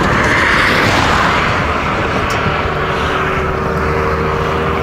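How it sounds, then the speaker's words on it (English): A Racer Magnum RC250-C5B 224cc motorcycle riding along a road near a yellow field in Belarus, its engine droning loud and steady under heavy wind rush, with a faint tonal hum rising over the last seconds. "For this purpose I bought this motorcycle."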